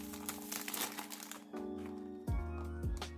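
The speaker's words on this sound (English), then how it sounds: "I'm here taking off the cellophane plastic." Cellophane plastic wrapper crinkles and crackles as it is peeled off a Paco Rabanne 1 Million Privé fragrance box, close and fairly loud, with bursts of crumpling and a couple of sharper thumps near the end.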